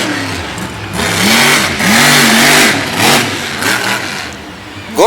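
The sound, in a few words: monster truck engine revving in a cyclone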